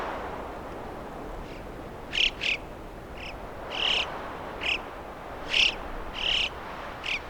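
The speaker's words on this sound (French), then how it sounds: "Des chocards à bec jaune qui lancent leur chant dans les courants d'air" Yellow-billed alpine choughs call from rocky mountain ridges in early summer, a series of short, bright high-pitched calls repeating at uneven intervals over a steady rush of wind.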